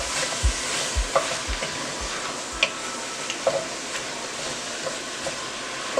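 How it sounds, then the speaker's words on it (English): Seasoned ground beef frying in a pan for cheesy beef pasta, stirred with a utensil: a steady close sizzle with repeated scraping knocks and clinks against the pan, no talking. "I just put like a tablespoon of this seasoning and the salt and pepper mix. And I'm gonna stir this up."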